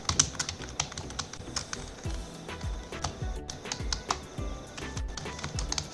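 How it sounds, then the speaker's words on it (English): Rapid, uneven keystrokes on a computer keyboard as a password is entered, close and clicky, with brief pauses between bursts of typing and no talking. "Am I really bad at typing?"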